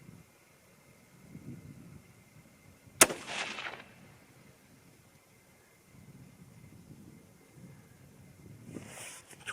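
A single 6.5 Creedmoor rifle shot fired at a range during a comparison of Swift Scirocco II 130-grain and Federal Fusion 140-grain bonded bullets: one sharp crack with a short decaying tail, heard at a distance, then quiet outdoor ambience.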